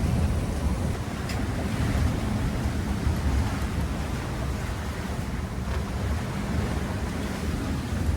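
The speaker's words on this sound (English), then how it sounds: "Big waves." Big ocean waves surge and wash around a sailing boat at sea on a passage from Minerva Reef to New Zealand, a continuous heavy roar of water mixed with wind rumble close to the microphone, without any voices.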